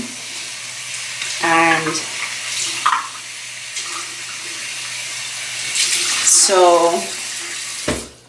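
Lukewarm tap water runs into a sink at a nighttime skincare routine, a steady broadband splash throughout, with someone talking briefly over it near the start and end.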